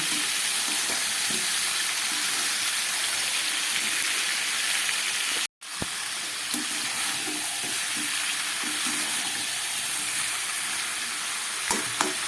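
Ridge gourd, eggplant, papaya and potato fry for a mixed vegetable labra, giving a steady, even sizzle with a few faint pops and one brief break midway.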